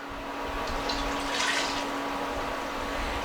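Milk pours in a steady, even stream into a pot of cheeseburger soup, a soft continuous liquid rush lasting a few seconds with no voices.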